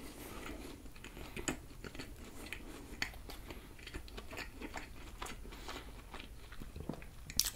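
Soft, close bites and chewing on a Burger King peanut butter burger with chicken, beef and fried onions, with irregular crunchy chomps and moist mouth sounds repeating quietly throughout.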